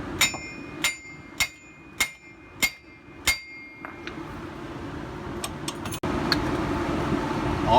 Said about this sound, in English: A little bit of hammer persuasion usually helps.